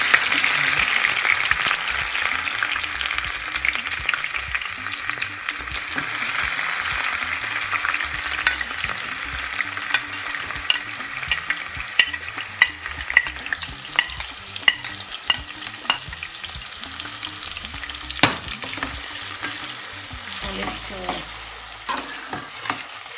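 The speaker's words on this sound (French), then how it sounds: "on va laisser un petit peu les oignons revenir, bien suer" Chopped onions, bell pepper and garlic sizzle steadily in hot oil for a rice and fish dish, a close, bright hiss broken by frequent sharp crackles and spatters, with occasional stirring scrapes.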